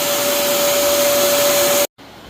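A shop vacuum roars loud and close with a steady whine, running continuously before cutting off abruptly near the end, leaving a lower hum.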